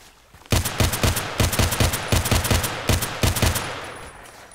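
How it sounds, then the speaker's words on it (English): Automatic weapon fire in the online shooter Contract Wars during a match on the Lake map: loud, close, rapid bursts of shots hammering in a fast, steady rhythm for several seconds, with no talking. "Everybody's shooting at me"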